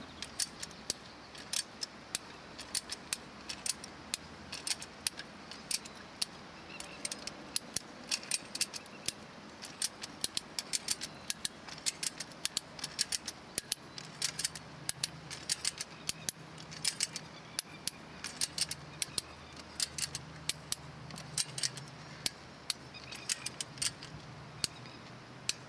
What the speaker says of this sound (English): just need to put some downward pressure on it with the ratchet handle